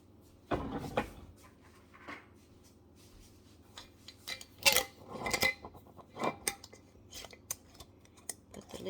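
A lid goes onto a jar of homemade vanilla extract with a few close, crisp clicks and scrapes, followed by scattered small handling taps and rustles.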